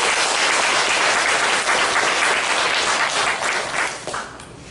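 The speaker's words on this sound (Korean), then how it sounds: "다시 한번 감사의 박수를 부탁드리겠습니다" Loud, dense applause from a congregation at a Korean commemorative worship service, steady and sustained throughout before tapering slightly at the end.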